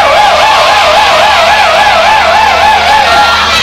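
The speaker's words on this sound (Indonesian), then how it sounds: "Wah, ini ada dan ada patroli polisi." A police patrol car siren wails loud and close, rising and falling in smooth repeated cycles with no voices over it.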